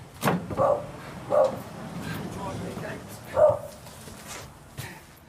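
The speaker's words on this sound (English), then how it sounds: "Customer's got a doggy that's saying hello." A customer's small dog gives a few short, yappy barks and yips at moderate distance against faint background noise, with outdoor sounds around during a job putting up a post on a brick wall.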